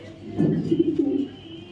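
A female racing pigeon, oval white in colour, gives a soft, close coo, a short throaty rolling call lasting about a second with no talk over it.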